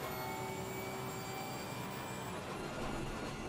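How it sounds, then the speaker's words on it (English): A race car engine holds sixth gear in Assetto Corsa Competizione during a sprint race at Silverstone, giving a steady, high-revving drone that stays constant and fairly loud throughout, with no voices over it. "That 6th gear sounds really good."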